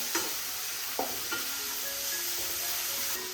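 Curry with tomatoes fries in a pan with a steady, quiet sizzle, interrupted by a few soft stirring knocks near the start, with no talking.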